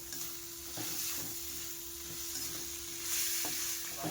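Meat masala with tomato and green chillies being stir-fried for an outdoor picnic cook-up, a steady close sizzle broken by scraping stirs of the spatula, with faint hum in the background.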